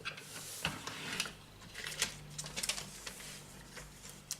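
A paper trimmer with a cutting arm slices through several sheets of paper at once, giving a quick run of close, crisp clicks and scraping ticks at moderate volume, with no talking.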